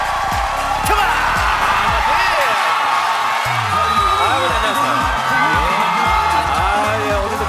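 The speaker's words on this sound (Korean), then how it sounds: "뜨거운 박수로 환영해 주십시오" Applause and cheering from a studio audience at a comedy show as parents are welcomed onstage, loud and sustained with whoops, and a voice talking over it.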